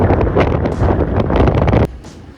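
Strong wind buffets a microphone outdoors in Argentina during a bike tour, a loud continuous low roar that cuts off abruptly near the end, leaving quieter gusts.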